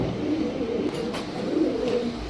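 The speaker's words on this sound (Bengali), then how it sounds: "এটা হলো পাকিস্তানি রামপুরি অরিজিনাল একদম হাই কন্ডিশন কবুতর" A Pakistani Rampuri pigeon cooing close by in a pigeon house, with soft, low, rolling coos that swell and fade over about two seconds.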